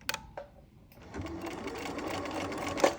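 A sewing machine stitches along a line on fabric with the presser foot down, starting after a few brief clicks and then running as a steady, close mechanical whir to the end.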